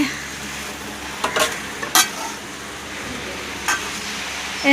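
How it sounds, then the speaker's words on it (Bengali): Potatoes frying in a pan for aloo dum in a home kitchen give a low, steady sizzle, with a few brief louder scrapes and clinks of stirring spread through it. "মা এখন আলু ভাজছে আলুর দমের জন্য"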